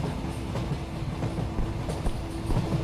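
A train rolls along rails inside an Indian horror-train video game, a steady close rumble with faint clickety-clack rhythm and occasional knocks running continuously throughout.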